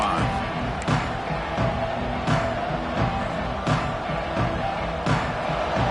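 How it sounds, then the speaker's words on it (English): A large football stadium crowd at a playoff game roars steadily, a dense, loud wash of voices with rhythmic surges and occasional sharper shouts rising out of the din. "this crowd is fired up. Listen to this noise here."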